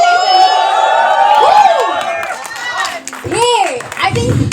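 A crowd at a film trailer launch in Delhi hoots and whoops in rising and falling cries, then breaks into loud clapping and cheering near the end, with a voice talking over the opening.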